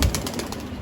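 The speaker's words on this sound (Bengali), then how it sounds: "এই দেখেন 4টা কবুতর ছেড়ে দেখাইছি" Four pigeons released together, a quick burst of rhythmic wing flapping close by, lasting under a second with no voices.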